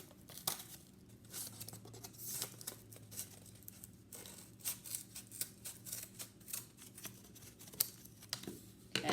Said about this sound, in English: you're simply going to cut a strip off of that about 1 inch wide